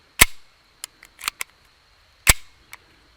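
Walther PPQ M2 .22lr pistol having its slide stop and magazine release worked, giving a few sharp, close metallic clicks and snaps separated by short pauses, with no talking.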